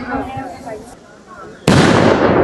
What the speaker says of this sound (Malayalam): വീട്ടിപ്പുര വെടിവഴിപാട് ഒന്ന്.